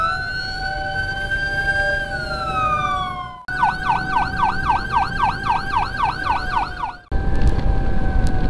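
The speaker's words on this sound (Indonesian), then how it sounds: "Wah, pakai sirine." An ambulance siren escorted after a CT scan trip: a loud, close wail that shifts into a rapid repeating yelp, then cuts to a steadier tone amid road noise.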